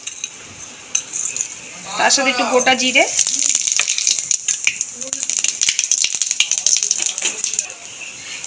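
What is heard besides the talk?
whole spices (cinnamon, cardamom, cloves, cumin) sizzling in hot oil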